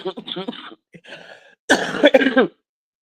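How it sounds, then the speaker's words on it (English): A person coughs in a loud, harsh burst near the microphone after some quieter throaty sounds, then silence. "you got me all coughing and stuff"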